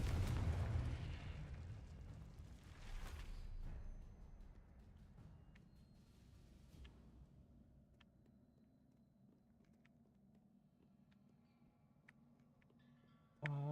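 In the Hogwarts Legacy video game, a Confringo spell explodes with a deep, loud boom at the start and another burst a few seconds later, then fades into quiet ambient hum with faint clicks.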